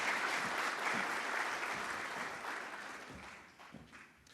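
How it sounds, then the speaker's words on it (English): Warm applause from the audience at a public-private forum in Namibia, dense and steady clapping that gradually thins and fades toward the end. "Please give him a warm round of applause."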